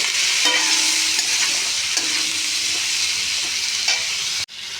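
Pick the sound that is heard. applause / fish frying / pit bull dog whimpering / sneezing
fish frying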